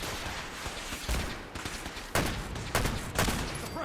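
Suppressing gunfire in the video game Fallout 4, several heavy bursts of shots cracking out at irregular intervals over a dense, noisy battle background.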